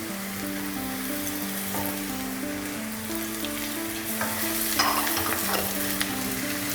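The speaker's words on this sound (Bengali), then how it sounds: "আমি আদাটাও 30 সেকেন্ড পর্যন্ত ভেজেছি।" Chopped ginger fries with garlic and onion in a hot pan for a katla fish kalia curry, giving a steady close sizzle with scraping stirs and no voices.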